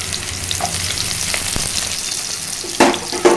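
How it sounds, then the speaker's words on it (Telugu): One thinly sliced onion frying in a pan for a masala curry gives a steady hiss of sizzling oil, with short scraping stirs and a couple of sharper clatters toward the end. "ఇప్పుడు ఉల్లిపాయ ముక్కలు వేసుకోవాలి"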